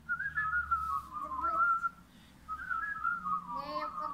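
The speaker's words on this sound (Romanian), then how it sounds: "Ce fluierat e ăsta?" Someone whistles a wavering tune at moderate distance in two phrases with a short pause between them, while faint voices murmur in the background of a home.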